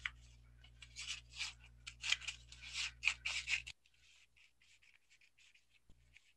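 Scissors cutting paper along a drawn line in a quick run of crisp snips up close, then a near-silent pause with a few faint rustles.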